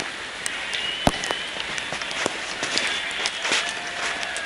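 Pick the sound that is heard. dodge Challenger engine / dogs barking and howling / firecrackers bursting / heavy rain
heavy rain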